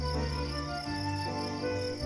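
Katydid stridulating on a summer night, its forewings rubbed together in a continuous buzzing trill with steady high-pitched bands, alone and fairly close.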